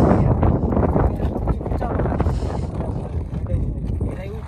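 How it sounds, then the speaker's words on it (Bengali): Strong wind buffets the microphone on a mountain trail in Hatta, UAE, in a loud, continuous roar that stays dense and unbroken throughout. "বাতাস"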